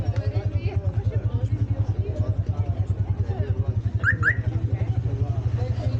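A tuk-tuk putters steadily through the narrow lanes of the Marrakech medina, its small engine pulsing in an even, close rhythm with faint crowd chatter and a couple of brief high chirps.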